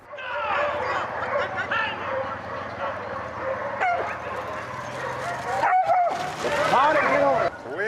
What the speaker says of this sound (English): Look at those dogs go.